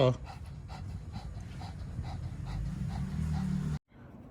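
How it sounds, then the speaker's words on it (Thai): A partially paralyzed dog pants heavily in a steady, rapid rhythm of close breaths, continuing for several seconds before cutting off abruptly near the end. "เหนื่อยหอบเลย"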